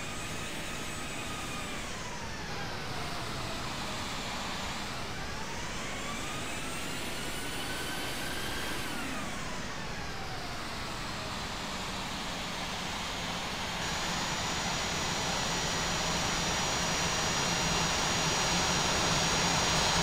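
Continuous jet engine whine and roar from an aircraft taxiing toward the runway in the Infinite Flight game, with tones that repeatedly sweep up and down, then a louder, steadier hiss building near the end.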